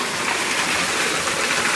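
Water pours steadily from stone spouts at Pringgodani shrine on Mount Lawu, a loud, dense, continuous splashing rush with no pauses.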